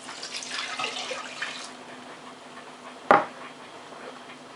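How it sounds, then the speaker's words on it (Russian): Warm milk is poured into a glass for yeast dough in a home kitchen, a soft splashing pour lasting under two seconds, followed later by a single sharp click. "стакан теплого молока"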